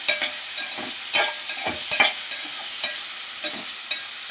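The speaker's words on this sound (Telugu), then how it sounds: "పచ్చివాసన పోయేంత వరకు బాగా ఏగాలండి" Cucumber pieces sizzle steadily in a hot pan while a utensil stirs and scrapes them in several distinct strokes, close by, with no voices.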